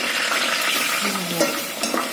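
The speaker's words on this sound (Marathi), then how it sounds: "कढीपत्ता उडणार नाही, असं तडतड उडतो ना" Curry leaves crackling in hot oil in a pan, a dense continuous sizzle with faint pops, close and steady through the short moment.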